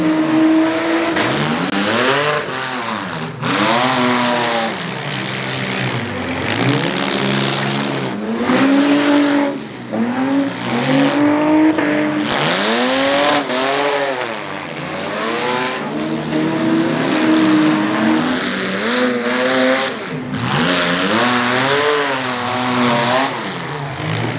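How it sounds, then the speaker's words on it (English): A loud race car engine roars and revs continuously on a dirt track, pitch rising and falling as it accelerates and brakes through turns, close and dominant throughout. "Man, that 22 Rex car is loud."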